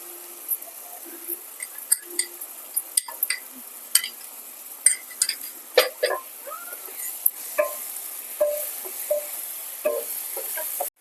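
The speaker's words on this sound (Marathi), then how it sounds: "आता टोमॅटोची पेस्ट टाकायची आपल्याला ही पण पाच मिनिटं याच्यात शिजवून द्यायची आहे" Tomato paste cooks in a pan with fried onions for red sauce macaroni pasta, giving a soft, steady sizzle broken by sharp spoon clinks and stirring scrapes against the pan, close by, with no talking.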